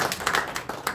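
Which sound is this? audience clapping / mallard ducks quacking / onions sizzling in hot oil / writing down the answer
audience clapping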